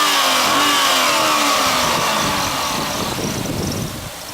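A 400-horsepower LS2 V8 from a 2005 C6 Corvette, paired with an automatic transmission, revs loudly up close as a continuous roaring engine note that gradually eases down.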